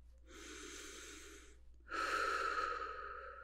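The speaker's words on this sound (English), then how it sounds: "Would you take a deep breath for me?" Two deep breaths during a lung check at a mock medical checkup, a long inhale followed by a louder, fuller exhale, close and breathy with no talking.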